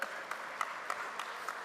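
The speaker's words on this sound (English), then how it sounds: "They're our heroes. Clap." Faint, evenly spaced clapping in a large hall at a GMB union congress, with a few beats at a steady pace, quiet and somewhat distant.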